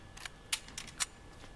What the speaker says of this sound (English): Reload.